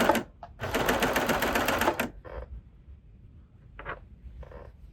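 Sewing machine running a short back stitch on upcycled clothing fabric, a dense rapid mechanical burst of about a second and a half followed by brief fainter bursts of needle clatter.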